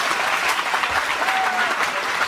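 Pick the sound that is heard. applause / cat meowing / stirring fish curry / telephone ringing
applause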